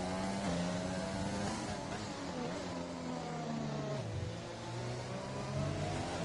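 Onboard F1 car engine in a racing video game at the United States GP, revving loud and continuous with rising and falling pitch through gear changes, a brief dip mid-run before climbing again.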